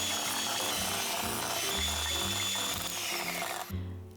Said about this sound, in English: mix it through and then beat until the mixture becomes fluffy and pale